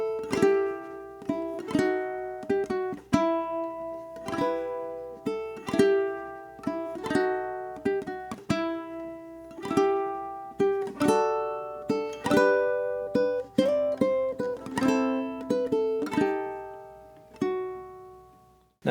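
Ukulele playing the intro melody of We Three Kings, a run of plucked notes in a steady rhythm, close and clear, solo with no voice.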